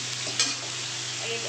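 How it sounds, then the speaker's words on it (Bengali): Fish fries in a pan with a steady, close, hissing sizzle and one brief clink of a utensil, no voices. "এদিকে মাছ ভাজা হচ্ছে"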